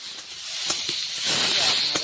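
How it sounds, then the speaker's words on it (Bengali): Potatoes frying in oil with turmeric in a wok, a close, steady sizzling hiss that swells and crackles as they are stirred. "এরপর কড়াইতে আমরা তেল, হলুদ, আলু দিয়ে খুব ভালোভাবে নেড়ে চেড়ে নেব যতক্ষণ না আলুটা লাল লালভাবে ভাজা ভাজা হয়।"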